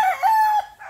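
A buttermilk gray broodcock rooster crows once in a backyard, loud and close. The call is a strong, drawn-out cock-a-doodle-doo that breaks off at the end.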